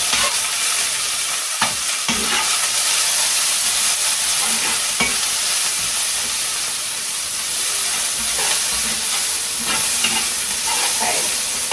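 Potatoes fry in a pan, a loud steady sizzle and hiss of hot oil running without pause, with a few scraping stirs of a spatula over it.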